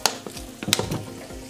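Masala frying in a pan for shorshe ilish sizzles and spits as a small splash of water goes in, with sharp crackles and brief bursts over a low steady hiss.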